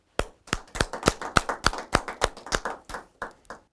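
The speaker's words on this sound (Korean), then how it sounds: "우리 모두 대모님께 진심 어린 감사의 박수를 보내주시면 좋겠습니다." An audience at a religious gathering claps in sharp, rhythmic unison, a dozen or so evenly spaced beats that fade slightly toward the end, close and distinct with little background.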